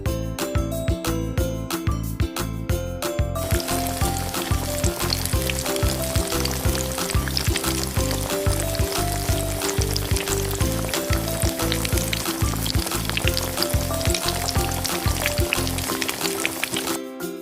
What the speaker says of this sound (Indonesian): Nah, aduk-aduk hingga semuanya juga tercampur merata sampai ini airnya itu menyusut.